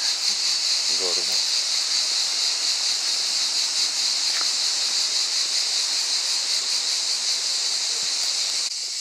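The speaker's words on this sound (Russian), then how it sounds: "Водопады" Steady, loud rushing roar of waterfalls in the Zapadere canyon, continuous broadband noise through the whole stretch with a few faint clicks and a brief low thump near the start.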